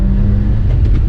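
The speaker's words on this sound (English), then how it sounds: "You can actually come from a full stop in third gear" A 1993 Suzuki Carry 4x4 kei truck with a four-speed manual pulls away from a stop in third gear, its engine a steady, loud low rumble close by.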